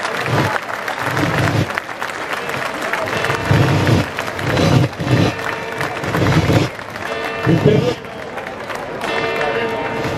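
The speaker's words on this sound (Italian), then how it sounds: "se lo merita proprio un grande applauso" A crowd at a Republic Day festival in Saronno, Italy, applauds and cheers as a parachutist lands, clapping surging and fading in waves under an announcer's voice and general crowd noise.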